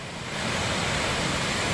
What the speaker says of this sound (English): But this is the waterfall that I crossed at